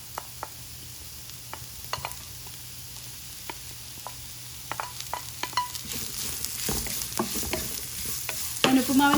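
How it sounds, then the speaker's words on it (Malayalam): Chopped vegetables and small onions stir-fried in a pan for oats upma, a soft steady sizzle punctuated by sharp scraping spatula strokes that grow busier and louder toward the end. "ഇതിലേക്ക് അരിഞ്ഞു വെച്ചിരിക്കുന്ന പച്ചക്കറികൾ ചേർക്കാം."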